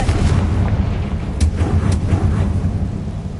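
A Confringo blasting spell fires in a wizard video game, a continuous rumbling boom with sharp crackling bursts layered over low, heavy thunder-like noise throughout.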